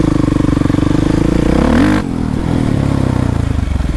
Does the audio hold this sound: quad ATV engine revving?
yes